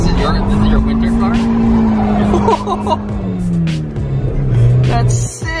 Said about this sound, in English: That last rip in the Miata is deadly.